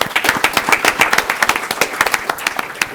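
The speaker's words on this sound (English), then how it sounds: "Let's give them a round of applause." Applause at a city council meeting in Brawley, a small group clapping briskly and steadily throughout, close and fairly loud with individual claps distinct.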